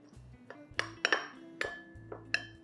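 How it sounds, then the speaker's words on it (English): Bowl of crispy topping with rice flour, salt and Aleppo pepper being stirred, a utensil clinking against the dish in several short, close taps at an uneven rhythm. "We're going to mix it together"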